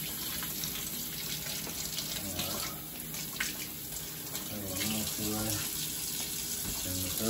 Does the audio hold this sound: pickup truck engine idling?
no